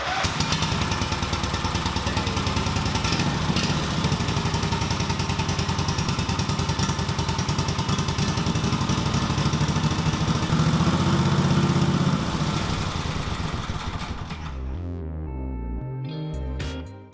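A V-twin engine on a mini bike runs loud and steady at a fast, uneven idle, with a dense mechanical clatter throughout, then cuts off near the end and leaves some quieter rattling and thumps.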